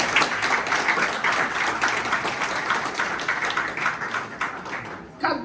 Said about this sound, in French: je demande de nous battre un gros applaudissement pour M.